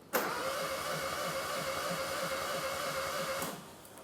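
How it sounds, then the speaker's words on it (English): An engine is cranked during a cylinder compression test, with the starter churning in a steady, rhythmic whirr for about three seconds before it stops. "So we'll crank it and we'll see what it comes back with."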